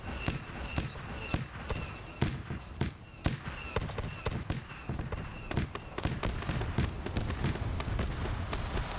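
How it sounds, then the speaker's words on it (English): Blaster pistol fire in a Star Wars video game battle, rapid sharp shots popping repeatedly over a dense, loud background of gunfire and explosions. "Bro's using the blaster pistol."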